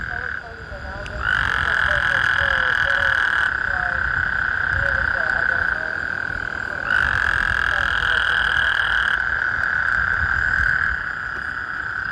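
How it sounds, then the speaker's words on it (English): A frog croaks loudly nearby in two long, sustained rasping calls, each lasting a few seconds, over a backdrop of night insects and faint rustling. "is that a frog? Yes."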